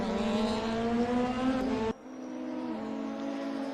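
DTM race cars practising on the Hockenheim circuit in the RaceRoom racing sim, one engine whining loudly through the gears before dropping away abruptly and leaving a quieter engine drone behind it.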